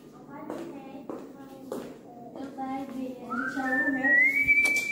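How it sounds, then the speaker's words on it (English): A man whistles indoors in a home in Meghalaya, India, a thin steady tone rising clearly in the latter half, mixed with voices and household shuffling. "He's whistling hoo hoo hoo and all."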